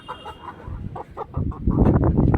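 A young Shamo Aseel hen clucks close by in a run of short, throaty calls that grow louder and denser toward the end.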